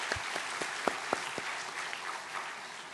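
Congregation clapping during a Korean Baptist church's Sunday worship service marking its 53rd anniversary, a faint, distant patter of scattered claps with a few sharper hits, no voices over it.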